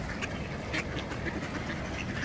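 Ducks and drakes quack repeatedly by the Orlik river near the dam of a suspension footbridge, their calls overlapping in a dense, steady chorus over constant rushing water noise.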